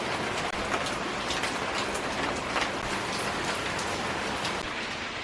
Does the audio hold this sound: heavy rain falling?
yes